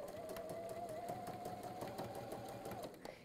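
A sewing machine runs a quarter-inch seam with a steady, rapid mechanical whir and rhythmic needle ticking, close and fairly quiet, then slows to a stop near the end.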